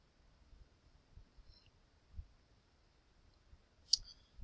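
A computer mouse gives a couple of soft, isolated clicks in a quiet room, the clearer one near the end and a fainter one earlier.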